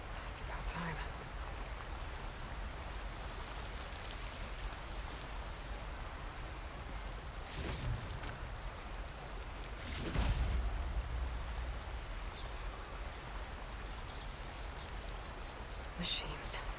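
Steady video game rain hisses throughout, an even patter broken by a couple of brief, slightly louder thuds.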